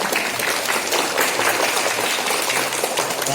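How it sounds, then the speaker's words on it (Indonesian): School flag ceremony for Indonesian Independence Day: a crowd of students gives lively, sustained applause, dense and even clapping from many hands outdoors throughout. "Berikan tepuk tangan yang meriah."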